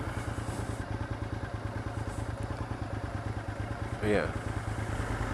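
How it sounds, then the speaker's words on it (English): V-twin motorcycle engine running in second gear, a steady, throbbing low pulse held close throughout, with someone talking briefly over it and a short rising whine partway through. "one great thing about a V-twin, I'm in second gear at the moment, and I can do everything in that gear"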